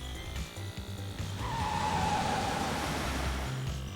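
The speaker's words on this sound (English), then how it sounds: "Drifting in one makes wheel noises?" Kart tyres screech in a sustained drift squeal in a Hello Kitty racing video game, rising over a steady engine drone and game music, moderately loud and without talk.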